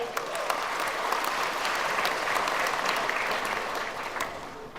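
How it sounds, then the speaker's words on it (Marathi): A large audience at an entrepreneurs' stage event bursts into loud, sustained applause, a dense roar of clapping that holds steady for several seconds before easing slightly at the end. "त्यासाठी आपल्या स्वतःसाठी एकदा जोरदार टाळ्या होऊन जाऊन द्या"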